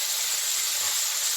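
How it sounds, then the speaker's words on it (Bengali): Hilsa fish frying in hot oil gives a loud, steady, dense hiss that holds unbroken through the whole short moment. "তেলটা আমার গরম হয়েছে, আমি এখন একটু মাছটাকে একটু ভেজে নিচ্ছি"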